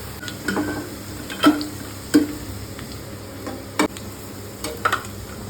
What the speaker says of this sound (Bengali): পেঁয়াজটা এখানে বেরেস্তার মতন করে ভাজা হচ্ছে, একটু টাইম লাগবে।